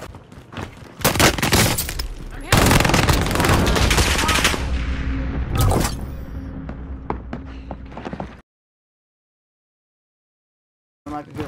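Heavy automatic gunfire in the video game Warzone, loud sustained bursts with strong recoil thumps and crackle, mixed with game effects and voices, ending abruptly in silence before a brief final sound.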